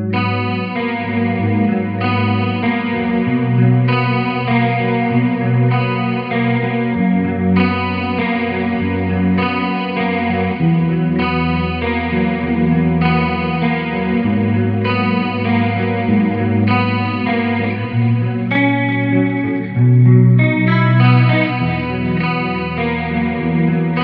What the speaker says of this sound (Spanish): vas a escuchar canales limpios, canales distorsionados, solo la guitarra